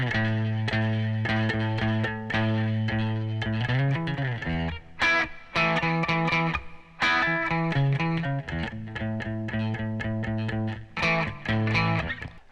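An electric guitar plays a rhythm part with an effects-coloured tone, strumming sustained chords in short repeated phrases with brief gaps, playing alone without talk.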